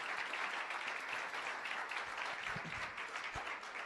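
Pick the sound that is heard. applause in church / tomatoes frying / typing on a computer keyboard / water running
applause in church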